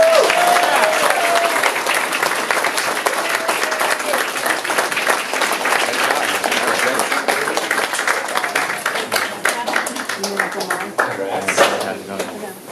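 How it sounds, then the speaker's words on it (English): An audience at a film festival screening applauds the filmmakers, a long and fairly loud round of clapping from a crowd that thins toward the end, with voices murmuring underneath. "Let's give them all a big round of applause"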